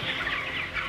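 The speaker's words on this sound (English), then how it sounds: "I walk through the barn, I look at the chickens, I look at their behavior" Broiler chickens in a barn make a continuous dense chorus of clucking from a large flock, steady and fairly loud for under a second.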